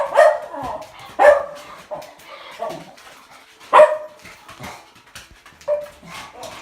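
A dog barks in several sharp, loud bursts spaced a second or two apart, with softer whining and yipping sounds between them, close to the listener.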